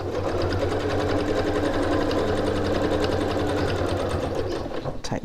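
Steady, rapid stitching from a sewing machine working on a tote bag runs close and unbroken for about four and a half seconds, then stops with a few fabric rustles.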